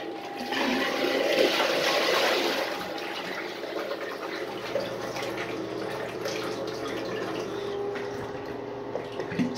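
A miniature 1983 Norris wall-hung toy toilet flush rushes water loudly for a couple of seconds, then settles into a quieter, steady trickle as it refills, heard up close.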